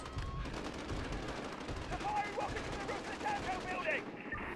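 Rapid bursts of automatic gunfire crackle continuously in the Modern Warfare video game campaign, dense and sustained, with a brief tonal sound partway through.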